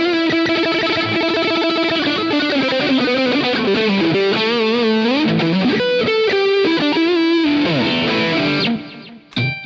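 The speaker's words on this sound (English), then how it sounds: "Now, let's flick it to the active pickup, and let's, this will be the big test." Electric guitar played on its active pickup through a Swiff 5.8GHz wireless system, loud and distorted with effects, sustained chords and bending lead lines ringing continuously, then cutting out abruptly near the end.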